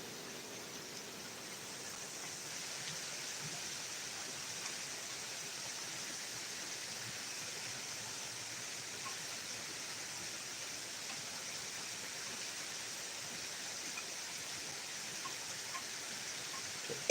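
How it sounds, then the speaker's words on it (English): Steady rain falls on a morning, a continuous soft hiss with no break that stays even and fairly quiet throughout, and no voices are heard. "Sure are getting plenty of rain this morning."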